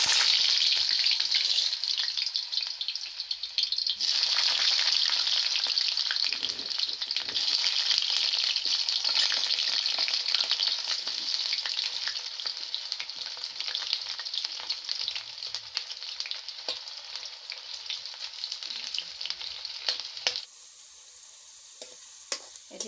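Potato pieces fry in hot oil in a wok, a dense, bright crackling sizzle that runs steadily for about twenty seconds before dropping to a quieter hiss.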